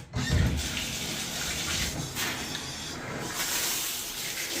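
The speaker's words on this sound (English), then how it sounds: "hose them down, hose them down." A hose sprays water steadily to wash mud off a radio-controlled car, a broad, continuous hiss with slight surges, fairly quiet and without talking.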